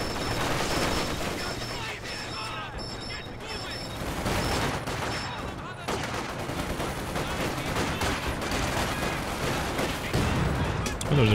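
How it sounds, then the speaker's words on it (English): A dense artillery barrage in a video game battle: continuous rumbling booms and gunfire crackle fill the scene without pause, with voices talking over the din. "Nice barrage, nice barrage."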